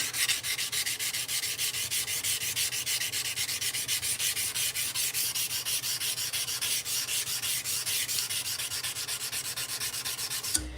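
Hand sanding a forged steel blade with 220 grit sandpaper makes a steady, close rasping rub of rapid back-and-forth strokes that runs continuously and evenly, with no voices.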